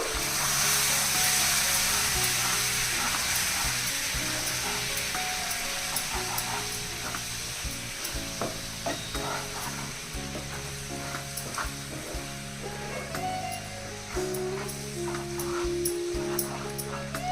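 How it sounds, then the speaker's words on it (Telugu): Caramelized sugar hisses and sizzles in a pan as boiling water is stirred in bit by bit, a continuous close frying crackle with scattered pops and faint clinks. "బాగా మరిగిన నీళ్లను ఒక హాఫ్ కప్ తీసుకుని ఇలా కొంచెం కొంచెం వేసుకుంటూ కలపాలండి"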